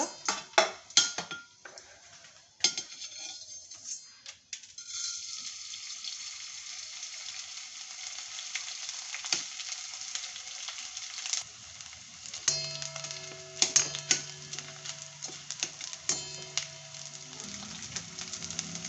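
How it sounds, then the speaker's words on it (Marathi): Pieces of edible gum sizzle and pop as they fry in hot ghee, a faint crackling hiss broken by clinks of a utensil against the pan, with no voices. "डिंक थोडा थोडा टाकून तळून घ्यायचा आहे"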